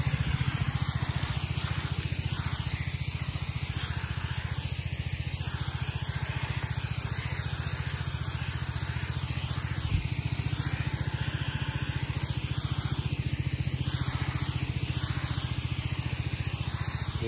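A motorized engine sprayer spraying an oil palm plantation gives a steady, loud hiss of spray over a constant low engine drone, running without a break.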